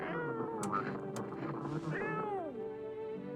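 A cat in the video game No I'm Not a Human meows several times close up, drawn-out and wavering, with one long falling cry near the end.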